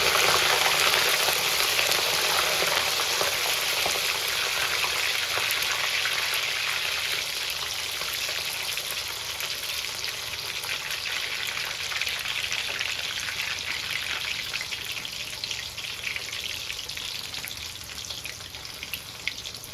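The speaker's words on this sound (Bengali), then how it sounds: "এরপর আমরা চুলার আঁচটাকে লো আঁচে রেখে একটু সময় এগুলোকে ভেজে নেব।" Whole garlic cloves and five-spice fry gently in oil over low heat for a tangy pickle, making a continuous soft hiss and crackle that fades slightly toward the end.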